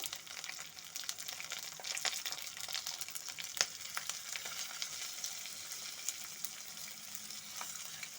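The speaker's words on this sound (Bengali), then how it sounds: "চালটার সাথে আলুটাকে ভালো মতো করে একটু ভেজে নেব" Rice and potato fry with fresh peas and ground spices in a pan, giving a continuous moderate sizzle with scattered crackles and pops, no voices.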